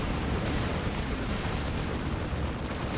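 A tank blowing up in the Dawn of War video game, a dense, loud, continuous roar of explosion and battle noise with no pause through the whole stretch.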